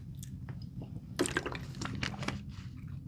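Someone sips and gulps water close up, giving a few wet, squishy swallowing sounds over a low background hum, with no speech.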